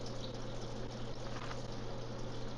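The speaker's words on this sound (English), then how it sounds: "Turn my hood fan on a little bit." Steady broadband whoosh of a kitchen range hood fan running close by, constant and unbroken throughout with a low hum underneath.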